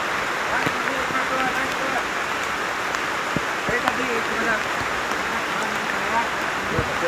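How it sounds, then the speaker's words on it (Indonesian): Heavy rain pours steadily on a forest, a dense continuous hiss with scattered drip and splash hits close by, and no talk over it. "Tengok ni, hari tengah hujan lebat."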